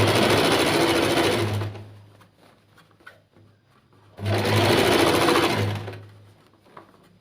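Sewing machine stitching churidhar lining in two loud bursts of rapid, buzzing motor-driven stitching, each about a second and a half long and separated by a quiet pause with faint handling noises.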